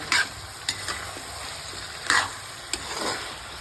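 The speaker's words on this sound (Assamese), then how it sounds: "এয়া তেলতে কোমোৰাও সিজিব, আলু সিজিব" Potato and pumpkin pieces cook in oil in a pan, a soft continuous sizzle broken by a few quick spatula scrapes and clinks, close but fairly quiet.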